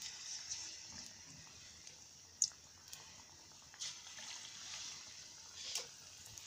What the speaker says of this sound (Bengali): তেলটা গরম হয়ে গেছে, এখন পিঠাগুলো ভেজে নেব।